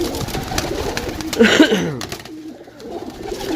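A pigeon gives a brief throaty coo in the middle, close and fairly loud, against a noisy background of rustling and murmur.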